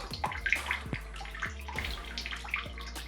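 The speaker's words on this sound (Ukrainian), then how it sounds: "Хочу показати, як в Ленінському районі біжить вода." Tap water runs steadily in Leninskyi district, on Hromadianskyi lane, where the supply is rusty and ketchup-coloured. The pour is close and splashing, with repeated low gurgling pulses and no talk.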